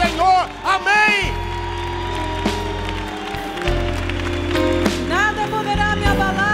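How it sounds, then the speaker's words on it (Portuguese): A church congregation applauds and cheers for Jesus, with clapping and crowd noise running beneath a loud, prominent voice speaking and singing. "eu te convido a dar uma salva de palmas para Ele"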